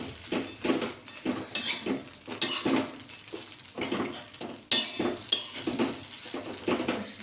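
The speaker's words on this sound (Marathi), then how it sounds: "आता मी त्यात शेंगदाणे टाकणार आहे आणि शेंगदाणे टाकल्यावर जरा परतून घेणार परत" Peanuts stirred in a pan for pohe, heard as a rhythmic series of metal spatula scrapes and clinks against the pan, close and fairly quiet, with a light sizzle underneath and no talking.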